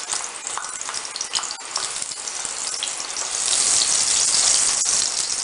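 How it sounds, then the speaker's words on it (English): Chopped garlic fries in hot oil to become garlic chips, a loud, steady, close sizzle that swells slightly as it goes on, without any talking. "Pag mainit na yung oil natin, pwede na natin ilagay yung ating garlic, chopped garlic, para gawing chips."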